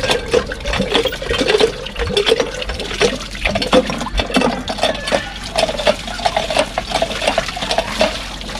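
Cold well water gushing from a manual hand pump outdoors, a steady close splashing and pouring stream with faint rhythmic clanks, continuing alone throughout.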